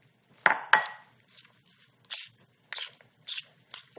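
Bread, tomato and arugula salad tossed together in a bowl, with two sharp clinks of utensils against the dish followed by softer, scattered rustles and taps at irregular intervals.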